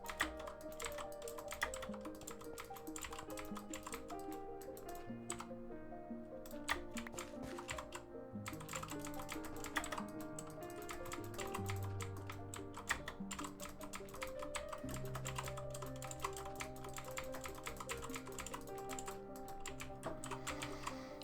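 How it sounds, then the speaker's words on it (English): Rapid, steady typing on a mechanical computer keyboard during a live Minecraft survival session, with dense clacky keystrokes running the whole time under background game music. "It sounds more like you're typing out a novel than playing Minecraft. That's the joys of a mechanical keyboard."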